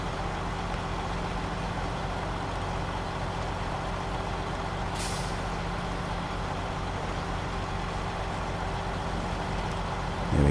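A heavy truck in a video game grinds across soft, boggy terrain near a garage, a constant loud engine drone with a brief hiss midway.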